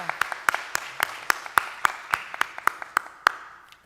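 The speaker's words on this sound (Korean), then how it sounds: "우리 하나님께 뜨거운 영광의 감사의 승리의 박수를 올려드립니다" A church congregation at a Sunday morning service clapping in unison, a steady beat of about a dozen evenly spaced, sharp claps that sounds fairly distant and moderately quiet.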